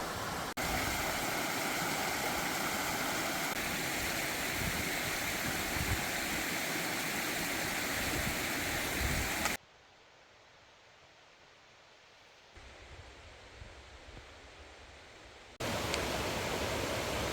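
A river along the Appalachian Trail in Maine's 100-Mile Wilderness rushes in a steady broadband roar, loud and close for most of the stretch, then briefly muffled and quieter before returning at full strength.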